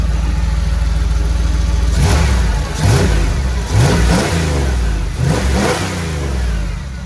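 A Ford F-350 Centurion diesel truck engine idles loudly nearby, then revs up in several quick bursts, each roar rising and falling back to a rumbling idle.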